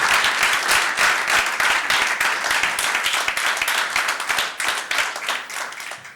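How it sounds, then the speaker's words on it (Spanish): Dense, steady applause from a conference audience at a philanthropy forum, many hands clapping loudly and continuously throughout with no break. "Un fuerte aplauso para Pilar"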